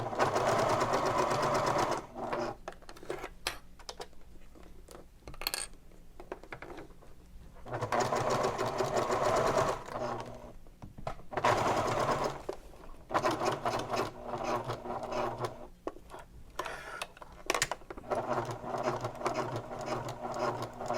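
A sewing machine with a Teflon foot stitches a messenger bag seam in long buzzing runs, pausing briefly between bursts of rapid, steady needle chatter, close and fairly loud.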